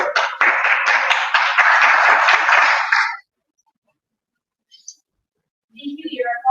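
An audience at a British Parliamentary debate championship bursts into loud applause for about three seconds, then it cuts to silence, with brief faint sounds and a voice starting near the end.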